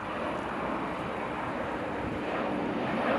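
Airbus jet departing runway 25 right at Los Angeles International Airport, a steady broadband roar of jet engines heard from a distance, constant and unbroken, with some wind noise on the microphone.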